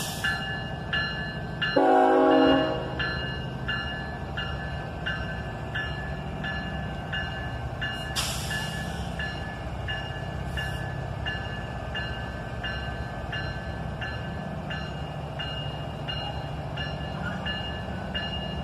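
A heavy freight train strains to start moving, its horn giving one loud blast early, then a long steady rumble of engines and cars with a sharp clank partway through, no talking.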